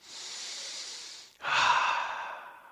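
Two deep breaths through the nose, a long airy inhale followed by a stronger, fuller exhale, close and clear with no talking.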